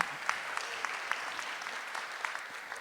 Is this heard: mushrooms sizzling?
no